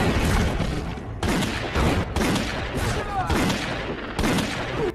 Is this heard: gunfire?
yes